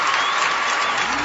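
An audience claps loudly in a dense, even burst of applause, close and continuous over a brief stretch, ending as a tone begins.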